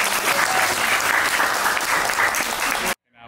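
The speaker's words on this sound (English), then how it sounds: "let's give him a round of applause." Loud, dense audience applause for a panel speaker at an AAPI Month event with Amazon, sustained steady clapping that stops abruptly, followed by a moment of near silence.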